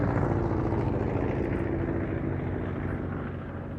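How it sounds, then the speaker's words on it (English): A Hawker Fury propeller aircraft engine starts up at a VE Day anniversary airshow, giving a loud, steady, rumbling drone that holds for the whole stretch and eases slightly toward the end. "Got the Fury starting up, which is nice."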